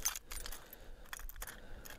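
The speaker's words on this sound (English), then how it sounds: "Jerry, you've got so many keys" A large bunch of car keys, including Toyota Supra and Nissan Skyline keys, jangles close by in quick metallic bursts and rattles, loud and bright, with no speech over it.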